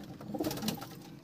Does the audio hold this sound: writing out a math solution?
no